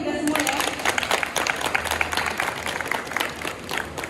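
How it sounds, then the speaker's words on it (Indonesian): Workshop participants in a disaster emergency management session applauding together, a full and steady round of clapping with crisp individual claps throughout. "Tepuk tangan dulu untuk kita semua ya."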